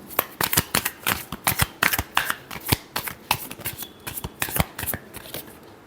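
Tarot cards are shuffled by hand in a quick run of crisp riffles and slaps, close and loud, with no voices.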